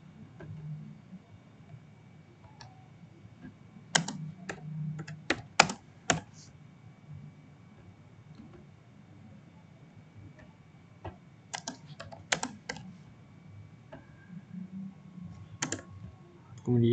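Python code being typed on a computer keyboard, with bursts of rapid key clicks separated by pauses, close and moderately loud over a low background hum.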